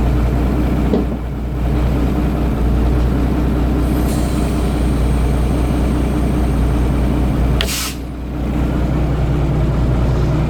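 Compressed air hisses loudly and steadily from a cracked plastic parking brake valve, a continuous close rush of noise over a low hum that dips twice briefly.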